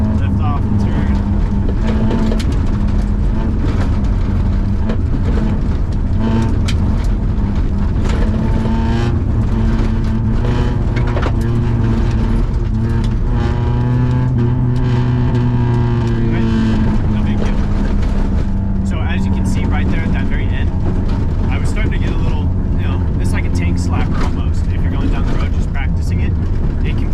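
Car engine on throttle and then lifting off during oversteer, a loud droning engine whose pitch rises and falls while someone talks over it throughout.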